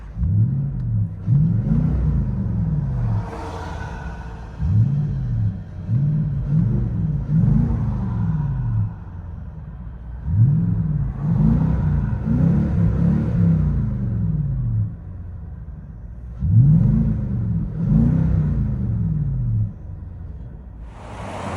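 A 2017 Nissan Titan SL with a 5.6L V8 and a Magnaflow dual-in, single-out 3.5-inch exhaust revs repeatedly, deep rising-and-falling bursts in clustered pulls with brief idle gaps, loud and close throughout.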